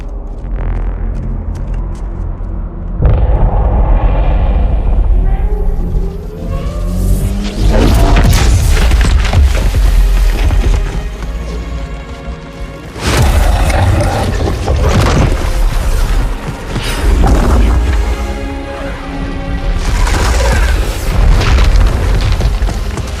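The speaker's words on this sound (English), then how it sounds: "The fleet is preparing to fire on our position." A fleet's bombardment pounds a position in the Halo 2 video game: repeated deep, heavy booming explosions with rumbling tails, loud and close, rolling in waves over about twenty seconds.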